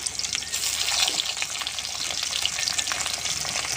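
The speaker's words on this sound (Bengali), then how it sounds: "গোটা শুকনো লঙ্কা ফোড়নে দেব, পেঁয়াজ কুচি, আদা রসুন বাটা" Whole dried red chillies, chopped onion and ginger-garlic paste fry in hot oil, giving a loud, dense, continuous sizzle and crackle heard up close with occasional stirring, no voices.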